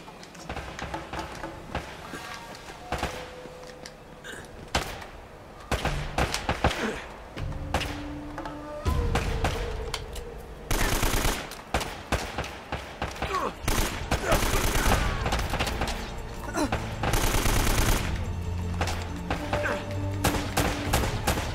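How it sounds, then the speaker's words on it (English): Gunfire in an Uncharted action video game, bursts of rapid shots and single cracks with thuds and impacts, loud and irregular, mixed with game music and voices talking. "Who else is shooting?"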